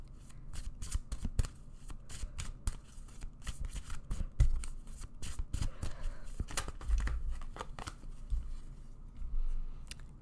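A deck of cards is handled and shuffled up close, with a quick run of crisp riffling flicks and soft slaps of cards, steady and fairly quiet throughout.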